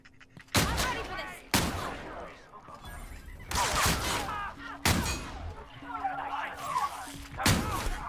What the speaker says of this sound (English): let's switch to shotgun for this